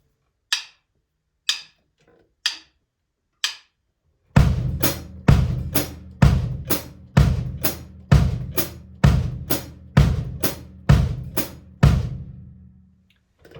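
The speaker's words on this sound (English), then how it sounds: "the bass drum is taking the quarter note, the hi-hat with left foot is taking the offbeat eighth note" Four soft count-in clicks lead into a steady drum groove: a thudding bass drum on each quarter-note beat with crisp foot-played hi-hat hits on the offbeat eighths between, close and clear.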